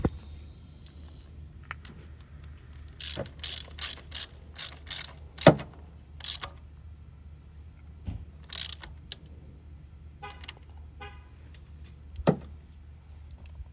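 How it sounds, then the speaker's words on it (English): A ratchet tightens a 10mm bolt back down during a spark plug change on a 2011 Nissan Versa, giving several short bursts of rapid clicking with a few metallic knocks and pauses between them. "then tighten that 10mm bolt back down"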